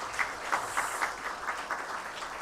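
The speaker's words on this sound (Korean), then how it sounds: "우리 감사의 박수 하겠습니다." Audience applause fills a university chapel service, a steady wash of many hands clapping with soft rhythmic swells, moderately distant and unbroken by speech.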